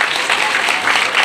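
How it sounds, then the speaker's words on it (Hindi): Loud, dense applause from a crowd at a school event at Dr Ram Manohar Lohiya Inter College, Kishni, cheering poets; a steady, continuous wash of many hands clapping. "इतनी जोरदार तालियां हो जाएं इन कवियों के लिए कि गड़गड़ाहट की आवाज़ आ जाए"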